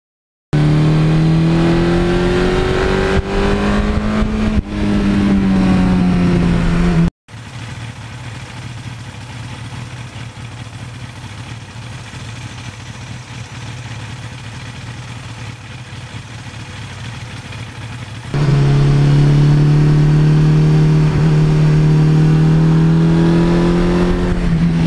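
A 1982 Suzuki GS1100E motorcycle engine runs loud and close, rising and falling through several revs, cutting out briefly, then settling into a steady lower idle before a final stretch of strong revving.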